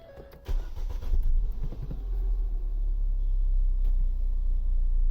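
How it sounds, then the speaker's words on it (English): A Ford Fiesta ST180 engine cranks briefly and catches, then settles into a low, steady idle rumble, close and continuous with no talking. "Let's give the car a quick start."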